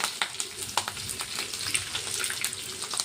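Mustard seeds, cumin, curry leaves and green chillies fry in oil and ghee for semiya upma, crackling with sharp intermittent pops over a steady low sizzle, close and continuous, with no talking.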